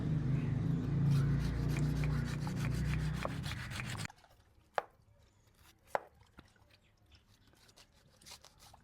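A somewhat blunt knife cuts through a large valaya fish, first with a dense stretch of close scraping and chopping, then a few sharp isolated knocks against the board amid quiet.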